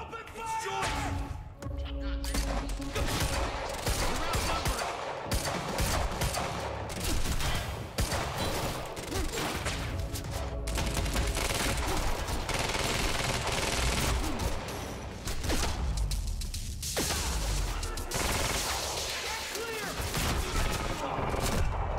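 Sustained gunfire in the video game Quantum Break: dense bursts of automatic shots and loud cracks fill the whole stretch, close and unrelenting, with yells and voices mixed in under the barrage.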